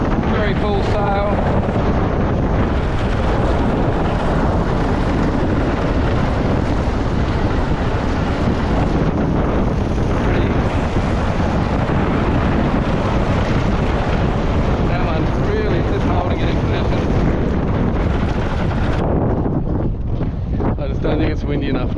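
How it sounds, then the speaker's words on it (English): Strong wind roars into the microphone on a windsurfing session at Coodanup, Mandurah, a constant loud buffeting rush mixed with water and board noise, easing slightly near the end. "it's windy enough now."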